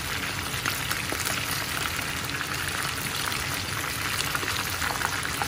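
Food fries golden brown in hot oil with a dense, continuous sizzle and scattered sharp spits of splattering oil, close and steady throughout.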